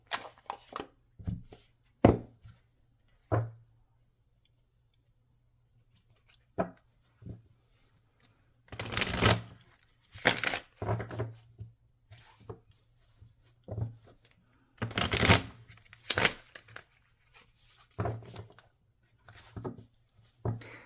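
Tarot cards shuffled by hand in short bursts of riffling and sliding, in clustered runs separated by quiet pauses, fairly close and with no talking.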